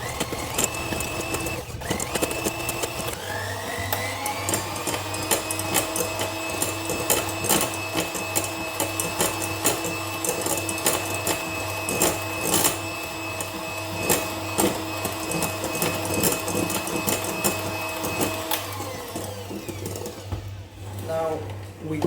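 Electric mixer whirring steadily as it beats egg yolks, sugar and a pinch of salt for mascarpone cream, a constant motorized drone with shifting pitch lasting about twenty seconds before winding down.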